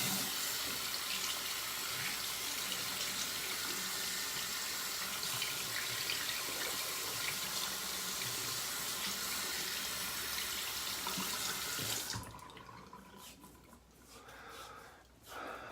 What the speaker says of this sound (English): get some water on there, and now it feels pretty good